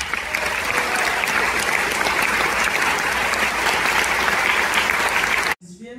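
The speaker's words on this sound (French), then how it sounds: "Je vous prie de les applaudir pour leur amour" A film festival audience in a theater applauding loudly and steadily, dense continuous clapping from a large crowd that cuts off abruptly near the end.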